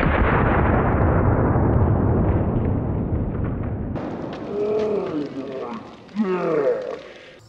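Smith & Wesson 500 Magnum revolver firing a single loud, close blast that rolls off into a decaying boom, followed by excited voices reacting.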